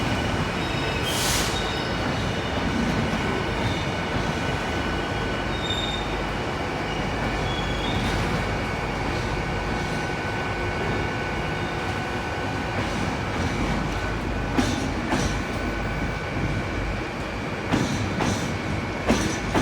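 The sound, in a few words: GBRF class 66 freight train passing at Exeter St Davids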